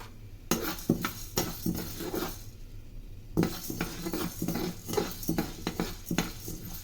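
Chana dal dry-roasts on a slow flame while a spoon stirs and scrapes the pan, giving repeated clinks and rattling of lentils with a short quiet pause midway.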